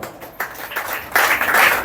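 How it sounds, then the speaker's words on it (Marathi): Many hands applaud at an old-age home's birthday felicitation ceremony, starting in scattered bursts, then building into fuller, louder clapping over a couple of seconds. "म्हणून या दातृत्वासाठी पण टाळ्या वाजवा"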